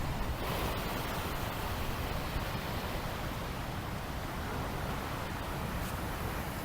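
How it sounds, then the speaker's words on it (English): Heavy typhoon surf pounds a shore in Siargao as a broad, continuous roar of crashing waves and spray, loud and steady throughout with no talking. "Let's get out of here before these waves come in."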